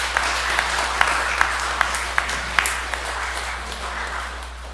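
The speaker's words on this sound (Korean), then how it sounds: "하나님 앞에 영광의 박수, 또 주변 분들에게 또 격려의 박수 한번 해주실까요?" A church congregation claps together during a Sunday morning service, a steady wash of applause with scattered sharper claps standing out, moderately distant and without talk.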